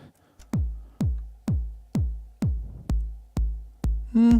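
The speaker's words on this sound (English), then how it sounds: "Let's try that TR8 tune down." Eight booming, low Roland TR-8 kick drum hits tuned down, in a steady rhythm, each with a long pitched-down tail, followed by a brief sustained tone at the end.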